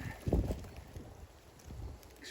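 Strong wind buffets the microphone outdoors on gorse heathland, a few low rumbling gusts rising and fading over a quiet hiss.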